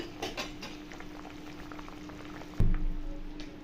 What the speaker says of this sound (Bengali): এরপর চাপা দিয়ে আমি এটা 2 মিনিটের জন্য ফুটিয়ে দেবো।